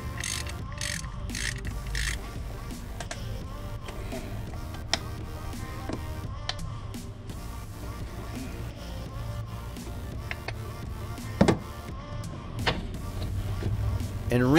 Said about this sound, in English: Then just put the bolts in, tighten them up